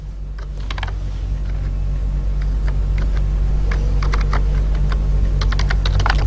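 Code is typed on a computer keyboard in quick bursts of crisp key clicks, close and distinct, over a steady low background hum.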